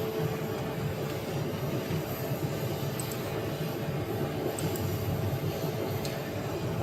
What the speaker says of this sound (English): This is an Airbus A320.